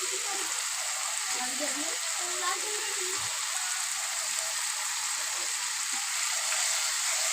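Cut eggplant sizzles steadily while being stir-fried in a pan, a constant bright hiss throughout with faint stirring touches and a voice speaking quietly underneath.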